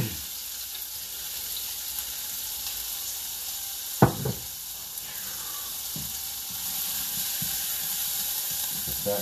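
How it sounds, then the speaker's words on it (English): Onions frying in a tablespoon or so of leftover bacon grease, a steady soft sizzle throughout with a sharp clack of a utensil against the pan near the middle and a few lighter knocks. "Mix everything around really good when you put the onions in there. Just get them all covered in the bacon grease."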